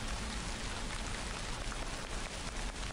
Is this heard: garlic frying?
no